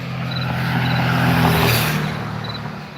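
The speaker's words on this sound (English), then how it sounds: "There is a car behind me." A car drives past behind a person walking along a wooded road at night, its tyre and engine noise swelling to a peak midway and then easing off, fairly close and with no talking.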